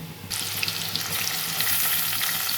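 Onions hit hot oil in a pan and burst into a loud, steady sizzle that starts suddenly and holds close and continuous, with no talking.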